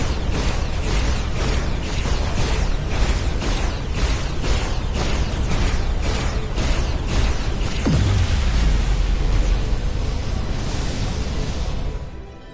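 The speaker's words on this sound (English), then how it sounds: "Dilithium explosion." A dilithium crystal explosion in the video game Star Trek Resurgence: a loud, sustained burst with rhythmic pulsing, then a deep descending boom near the eight-second mark that trails into rumbling noise before cutting off.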